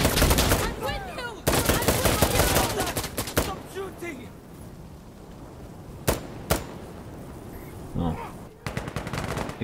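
Close, rapid automatic gunfire in Insurgency: Sandstorm opens with heavy bursts, then thins to scattered single cracks and distant shots over a low rumble of battle ambience.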